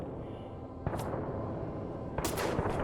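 Two sharp gunshots, loud and close, in Fallout 4, spaced about a second and a half apart over a low background rumble.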